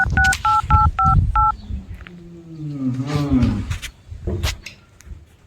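A telephone keypad is dialed in five quick, clean tone beeps up front, followed by a deep, drawn-out growling roar and a few sharp knocks at close range.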